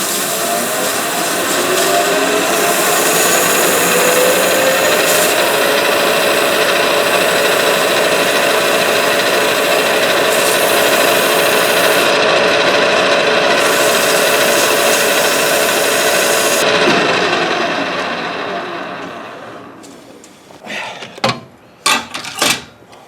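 A metal branding iron handle is polished with a power tool, its steady whirring drone running loud and continuous for about twenty seconds before winding down, followed by a few sharp knocks and clatters.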